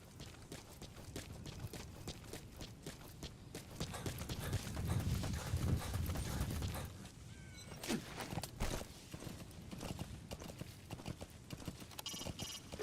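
A horse in Metal Gear Solid V: The Phantom Pain trots and gallops across open wilderness, rapid rhythmic clip-clop of hooves swelling louder mid-way then settling, with a brief snort or whinny, no talk over it.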